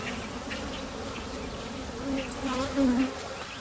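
Honeybees drone in a steady, dense buzz around an open beehive during an inspection, with individual bees swelling louder as they pass close toward the end.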